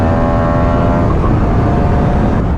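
Yamaha MT-07 motorcycle accelerating downhill on a test ride, a loud steady engine drone with heavy wind rush, close and continuous.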